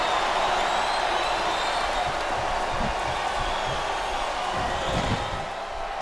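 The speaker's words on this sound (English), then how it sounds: "Listen to the crowd, JR." A wrestling arena crowd in a WWE match murmurs and rumbles steadily, a broad, distant roar with scattered claps and thuds that fades slightly near the end.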